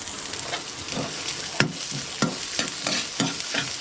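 Chicken intestines (isaw) with plenty of fat fry in added cooking oil, a steady close sizzle punctuated by periodic scraping stirs of a utensil in the pan, with no talking.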